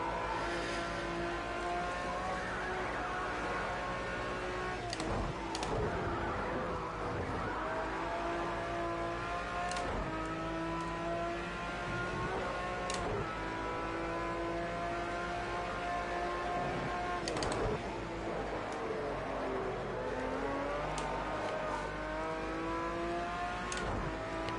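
A race car on the Donington circuit during a test session, its engine droning loudly and steadily with repeated rises and dips in pitch as it brakes and accelerates through corners, with occasional sharp bursts of noise.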